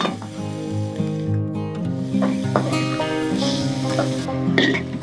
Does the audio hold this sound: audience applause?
no